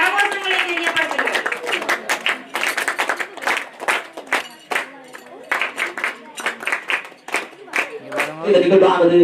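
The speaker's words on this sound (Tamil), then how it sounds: "வெற்றி கிண்ணத்தை அனைவரும் உங்கள் கரகோஷங்களை தெரியப்படுத்துங்கள்." Audience applause for silambam trophy winners at a student award ceremony, a run of sharp individual claps close by, mixed with talking voices, a voice rising again near the end.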